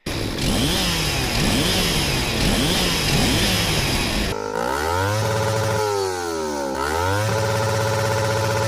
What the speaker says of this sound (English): And what's with the chainsaw on the Lancer?